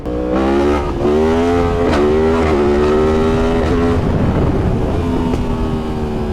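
A Yamaha MT-10 motorcycle fitted with a full Akrapovic exhaust cruises along a road, its loud, rough engine note rising and falling through gear changes, heard close with wind buffeting and no talking.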